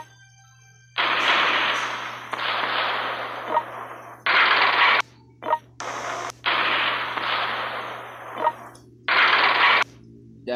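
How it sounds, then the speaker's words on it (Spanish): Gunfire bursts from the mobile strategy war game World Conqueror 3, a series of loud sustained firing blasts lasting about a second each, separated by short gaps over a low steady game hum. "Vamos a realizar el primer disparo y esperemos que no nos contraataquen."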